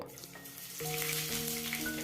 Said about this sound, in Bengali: এবারে আমরা এঁচোড়গুলোকে ভেজে নেব